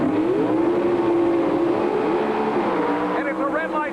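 A pair of Chevrolet Camaro drag cars at the start line of the 1987 NHRA Cajun Nationals, their engines a loud, steady drone that swells and rises in pitch, with a commentator talking over it throughout.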